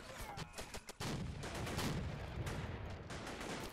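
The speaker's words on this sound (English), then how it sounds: "Okay, their automatic cannons are starting to target us as well." Rapid bursts of automatic cannon fire in the Second Assault Red Rising mod, mixed with other gunfire and booming explosions in a dense battle soundscape that grows louder and more continuous after the first second.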